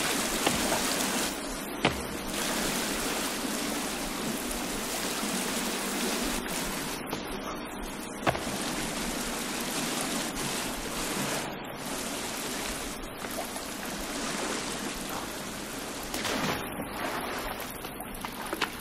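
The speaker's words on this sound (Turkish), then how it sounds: "Çok sesli bir şelale var arkadaşlar." Water in a survival video game falls and rushes in a constant broad roar, like a loud nearby waterfall, steady throughout with a few faint clicks and shifts.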